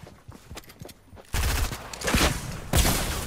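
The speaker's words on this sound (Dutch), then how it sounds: "Ik ga een RPG op zijn nozzo schieten" In the video game Fortnite, an RPG rocket launcher fires: a few quick snapping shots, then a loud, sudden blast with a dense roaring tail and a second boom near the end.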